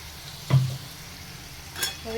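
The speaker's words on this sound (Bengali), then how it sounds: "পেঁয়াজগুলো ভাজতে থাকি" Chopped onions frying with ginger garlic paste in a pan for a Bengali egg curry give a low, steady sizzle, with a short stirring scrape near the start and softer clatter toward the end.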